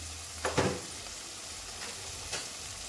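Ground coriander, black pepper and chili powder stirred together in a hot pan, a soft steady sizzle with a few scraping strokes of the spoon, close and fairly quiet.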